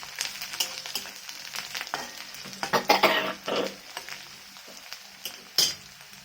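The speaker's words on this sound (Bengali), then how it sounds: "রসুনগুলোকে ভালো করে ভেজে নেবো কড়কড়ে করে।" Garlic cloves fry in hot oil with black cumin seeds for a drumstick-leaf bhorta. A steady crackling sizzle is broken by repeated scraping stir strokes, close and moderately loud, with no voices.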